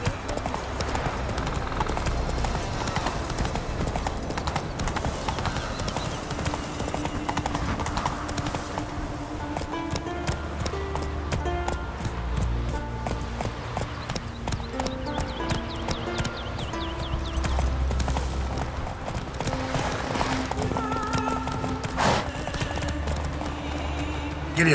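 Horse hooves clip-clop steadily at a gallop in The Witcher 3's Skellige isles, a continuous close rhythm over game ambience with occasional whinnies and a brief voice.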